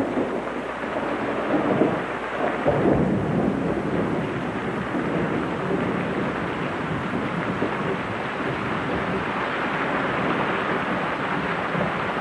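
A heavy thunderstorm in the open wilderness, steady rain and wind roaring throughout with a deep thunder rumble swelling early on, loud and enveloping with no voices.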